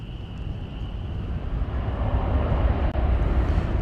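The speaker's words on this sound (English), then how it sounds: "It's an Airbus A321." An American Airlines Airbus A321, flight 446 to San Francisco, roars past at an airport with a broad, rising jet rumble that builds steadily, heard from a distance.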